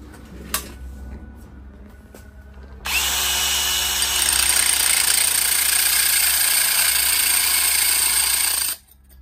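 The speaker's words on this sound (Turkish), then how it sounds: "Şöyle bir spiral ağzı gibi bir şey. Hakikaten güzel kesti." Power tool with a spiral bit cutting during repair of a Ufo electric heater, starting abruptly with a loud steady whine that holds for about six seconds and then stops sharply, with no talk.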